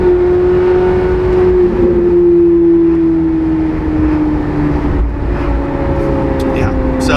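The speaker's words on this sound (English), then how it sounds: "the C8 Z06 does it naturally aspirated with that sound" A naturally aspirated Chevrolet Corvette C8 Z06 engine drones steadily at a loud, sustained pitch that slowly drifts lower. People talk over it.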